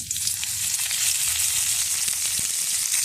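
Chillies and onions fry in hot oil for mung dal khichuri, giving a loud, steady, close sizzle and crackle that carries on without a break.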